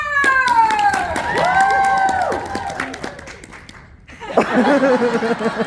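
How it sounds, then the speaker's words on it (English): Convention crowd at a Toronto comic con clapping and cheering, with voices and a sung or chanted line over the start, a brief dip near four seconds, then renewed claps and whoops. "One more round of applause"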